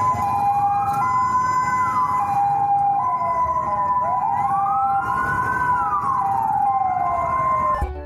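A toy fire truck siren wails in rising and falling sweeps, steady and loud throughout, with a fixed electronic tone layered underneath.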